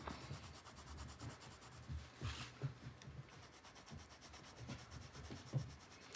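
Soft, quiet scratching of a Derwent oil-based pencil rubbing across paper in short, uneven swatching strokes, close and faint with small pauses between passes.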